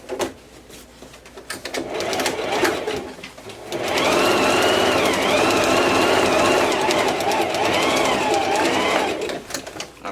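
A sewing machine stitches a fabric bow, running in a steady whirring burst of about five seconds after a pause, with shorter runs and fabric handling around it and a voice talking.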